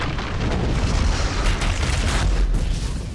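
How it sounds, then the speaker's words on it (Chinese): A loud, sustained blast of a thrown bomb bundle going off outside a house in a London gangster drama, a dense roaring boom filling the short moment with no voices over it. "男人用最后的力气将一包炸弹丢了下来"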